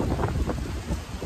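Strong wind from Hurricane Ian in Florida roars and buffets the microphone in a steady, close rumble with gusty surges throughout.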